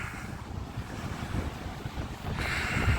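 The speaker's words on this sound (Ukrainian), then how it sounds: "такий сильний вітер від океану" Strong wind off the ocean at Lagoa de Albufeira, Portugal, roars steadily across the microphone with a low rumble, and a broad gust swells louder near the end.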